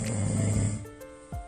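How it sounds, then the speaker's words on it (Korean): Recorded snoring from a person with sleep apnea plays back as a loud, rumbling snore that fades, then a brief snort at the end. "직접 녹음해왔다는 코골이 소리를 신중하게 들어보는"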